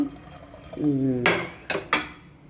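Fresh green field beans are washed in a metal vessel with water, with sloshing water, scraping against the pot and three sharp metallic clanks near the end, close by while a voice speaks briefly.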